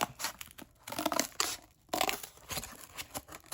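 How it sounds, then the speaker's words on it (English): Scissors snip through paper while a paper cutout is cut by hand, a run of close, crisp crunching and tearing bursts with short pauses between strokes. "grab my scissors, cut it out"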